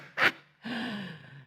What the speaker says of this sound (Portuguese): Respiração diafragmática